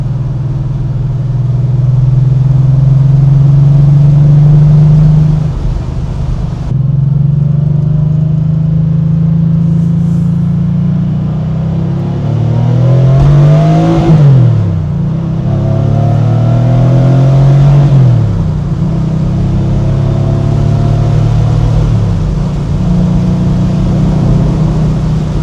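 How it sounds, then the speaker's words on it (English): Porsche 911 Madster built by Speedservice, revving on a road test with a deep exhaust note, loud and close, rising and falling in several pulls with no talk. "As you can hear, the exhaust had a very nice deep sound."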